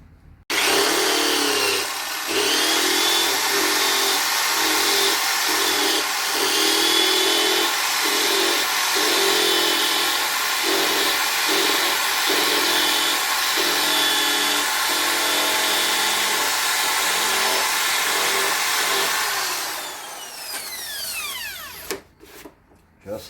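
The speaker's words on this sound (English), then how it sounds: "This is a neat trick. A wire wheel." A wire wheel spinning in a cordless drill scrubs steadily against the door molding of a 2006 Ford F350, a continuous loud abrasive whir broken by brief pauses and pulses, ending after about twenty seconds as the drill winds down.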